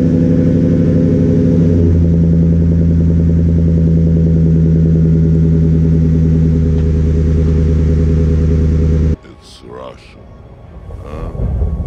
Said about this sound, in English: Guess we'll head out with the truck, start her on up.